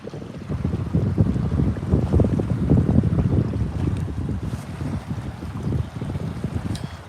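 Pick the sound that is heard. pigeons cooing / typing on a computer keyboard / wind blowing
wind blowing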